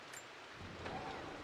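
Rain in the Rise of the Tomb Raider video game, a faint, steady wash of falling rain with a low rumble swelling slightly partway through.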